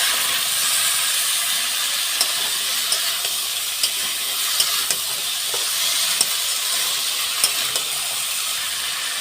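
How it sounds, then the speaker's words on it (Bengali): Cut potatoes are tossed and stirred in a hot pan while being cooked with salt, giving a steady, soft sizzling hiss with faint scraping ticks from the stirring scattered across it, close and moderately quiet. "এবার হচ্ছে কেটে রাখা আলুগুলো দিয়ে দেবো। এপাশ ওপাশ করে নেড়ে দেবো।"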